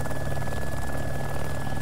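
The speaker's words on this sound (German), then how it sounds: "Und ein dicker, fetter Heli." A large helicopter flying far off in the video game DayZ Epoch, set on the Chernarus map, giving a steady, continuous rotor drone with no breaks, heard alone at moderate level.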